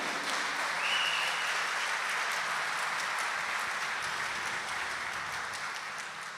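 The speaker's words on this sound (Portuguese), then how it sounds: "Pode dar uma salva de palmas?" A church congregation claps together at a Sunday Mass homily, a steady, dense wash of applause holding for several seconds before slowly easing off.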